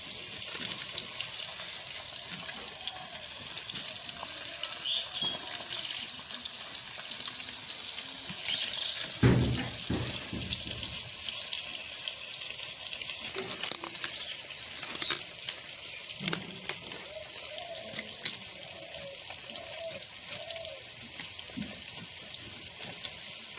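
Cut potatoes and kohlrabi are rinsed under running water in a kitchen sink: a quiet, steady tap stream with occasional clatters and splashes as the pieces are handled.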